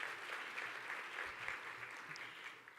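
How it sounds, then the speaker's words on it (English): Steady crowd applause at an evening business chamber event honoring a sponsor, moderately distant and even, fading slightly toward the end. "So let's give them a round of applause."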